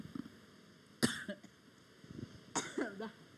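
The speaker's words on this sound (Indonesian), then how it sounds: "Batuk memang ya." Two separate coughs, each a sharp burst followed by a rough trailing sound, with faint background noise between them.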